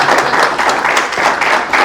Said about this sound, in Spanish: ha tenido muchos aplausos